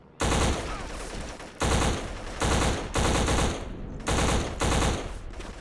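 Bursts of automatic gunfire from a Mac-10 or Mac-11 style submachine gun in the shooter video game Black, loud and close, in five or six sustained volleys separated by short pauses, with no talking.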